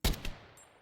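Gunfire in the survival video game From The Fog: two sharp, loud shots in quick succession, each followed by a short decaying tail, with no talk over them.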